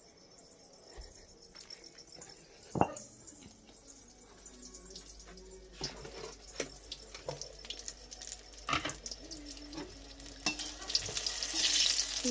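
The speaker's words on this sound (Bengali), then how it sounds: "এখন বেগুন ভাজা বসিয়েছি আর এগুলো এখন ভাজবো" Eggplant slices frying in oil in a pan in a home kitchen, a steady close sizzle with scattered sharp clinks of stirring and turning, the sputter growing louder and denser toward the end.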